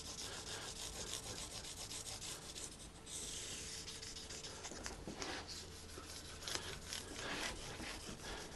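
Guitar frets are sanded with 2000 grit sandpaper during a re-fret, a steady stream of quiet, close scratchy rubbing strokes in a rapid back-and-forth rhythm.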